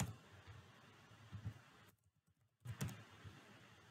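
A username and password are typed on a computer keyboard in quick, soft, faint clicks that stop briefly before resuming.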